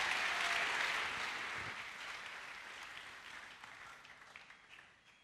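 A church congregation applauds to acclaim the Lord, a dense burst of clapping that starts strong and gradually fades away over several seconds.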